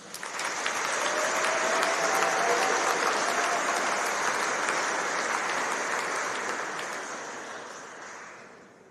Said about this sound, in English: Let's give a big round of applause to these remarkable students for their exceptional achievements.